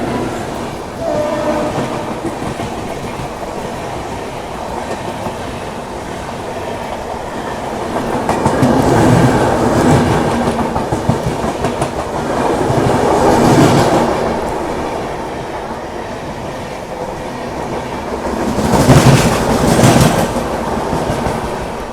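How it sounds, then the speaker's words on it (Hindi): The Mangala Lakshadweep Express crossing another train on an Indian rail journey, a continuous loud rumble of wheels and carriages with horn blasts swelling midway and again near the end. "चलिए आपको दिखाते हैं मंगला एक्सप्रेस की क्रॉसिंग"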